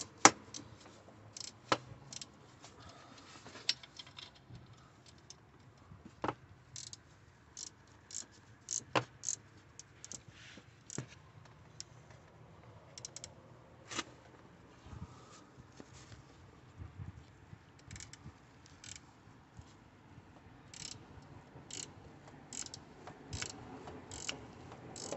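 A 13mm ratchet clicks in quick, irregular bursts while bolts are undone on the auxiliary belt tensioner of a BMW 116d 1.5 diesel. The sharp ticks come close and fairly quiet, with short pauses between bursts.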